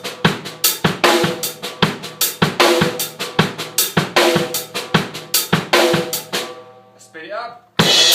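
Kick, snare and hi-hat play a linear drum beat, the first half-bar pattern repeated through the bar in a steady, loud, close groove, ending in a brief pause and a fresh hit.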